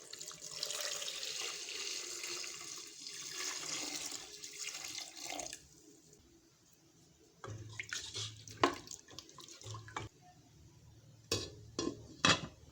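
Water pours steadily into a cooking pot for Nigerian ugu soup, a loud continuous splashing stream for several seconds, then quieter clinks and brief splashes of kitchen handling.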